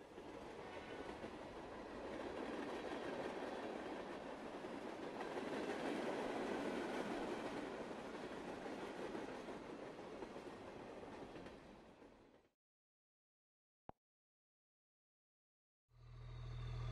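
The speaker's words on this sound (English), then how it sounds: "Some trains travel short distances, and others travel across entire countries." A train rumbles past with steady rolling clatter that swells and fades, then silence broken by one sharp click before a low hum returns.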